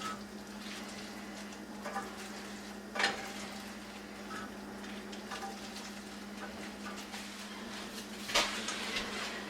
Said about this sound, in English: you stir that rice into with everything else